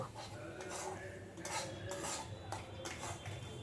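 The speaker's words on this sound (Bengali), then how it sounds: "হালকা রেখে ঘিয়ের ওপর সুজিটা খুব ভালো করে নাড়াচাড়া করে সবসময় নেড়ে দিতে হবে।" Semolina is stirred in ghee in a pan over low heat, with a utensil scraping and clinking against the metal in repeated soft strokes, fairly quiet and close with a faint background hum.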